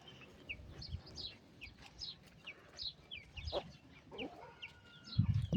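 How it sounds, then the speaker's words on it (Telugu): Chickens cluck while chicks peep in short repeated high calls. Scattered thumps and rustles sit underneath, and a louder low scuffle comes near the end. "కోడి పిల్లలు చూడండి ఎట్లా వస్తున్నాయి"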